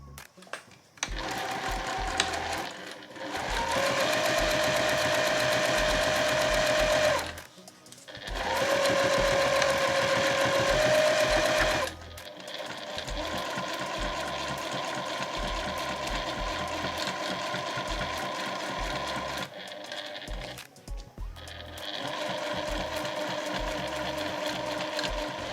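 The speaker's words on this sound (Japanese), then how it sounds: "そしたらそこで合わせて1センチ縫います" A sewing machine runs in long bursts, stitching a fabric zippered cooler bag made from scraps with laminate selvage; a steady mechanical whir with brief pauses between runs, close and loud.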